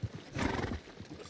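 A horse in the video game Red Dead Redemption gives a close, loud neigh with a rough, breathy whinny, followed by softer snorting and shuffling.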